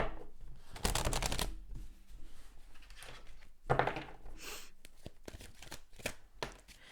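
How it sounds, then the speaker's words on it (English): Tarot cards are shuffled close by in quiet surroundings, giving several short riffling and slapping bursts separated by brief pauses. "We're going to pull some tarot cards for this"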